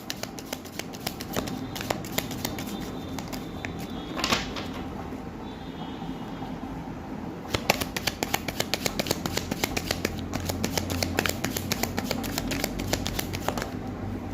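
Tarot cards being shuffled and drawn by hand: a long run of crisp riffling flutters with sharp card snaps, close up, with a busier burst of rapid clicks toward the end.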